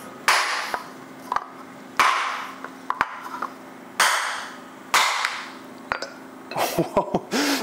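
A hammer strikes a wooden mortise and tenon joint to break it, with several loud, sharp knocks at uneven intervals, mixed with lighter taps and scraping, close up, with a brief voice near the end.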